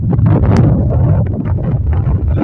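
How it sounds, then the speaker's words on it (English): Cold coastal wind around Astoria, Oregon, buffeting the microphone in loud, continuous low rumbling gusts with no voices. "that wind is just cold enough"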